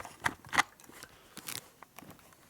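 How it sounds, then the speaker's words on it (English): New sharp cutter bits shave metal on a 1958 Harley-Davidson Panhead 74ci engine part, giving a few short scraping, crackly cutting strokes, close and fairly quiet. "So you can see how the new cutter is cutting pretty nice"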